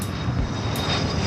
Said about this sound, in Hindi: इस तरह विमान हवा में उड़ने लगी।